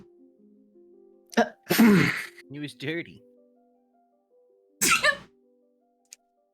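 Sneezes burst out in a lively tabletop role-playing game session, several sharp explosive bursts spaced a couple of seconds apart, close and loud, with brief speech between them.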